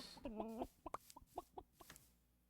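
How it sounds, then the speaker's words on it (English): A flint chicken in Minecraft FTB NeoTech gives a short burst of clucks, one drawn-out squawk followed by several quick clipped clucks, fairly quiet and close with no talking. "That's a flint chicken."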